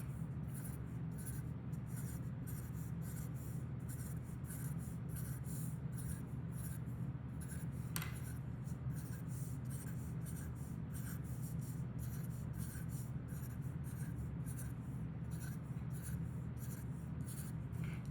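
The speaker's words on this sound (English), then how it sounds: "I'm gonna finish up by drawing in all my polka dots." Pen drawing polka dots on paper for a self-portrait, a faint, steady series of quick short scratching strokes repeating regularly, heard close up with a low background hum.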